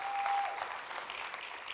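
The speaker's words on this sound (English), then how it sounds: "another round of applause for the industry organizers" An audience applauds speakers and organizers at an industry product conference, with dense, steady clapping from a large crowd filling the room throughout.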